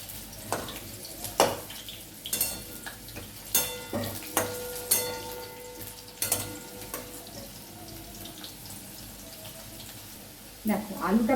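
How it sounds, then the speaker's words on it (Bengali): Sliced potatoes frying in hot oil in a home kitchen, a soft steady sizzle broken by repeated sharp clatters and scrapes of stirring, with a brief burst of running tap water near the end. "আমি আলুটা ভেজে নিচ্ছি।"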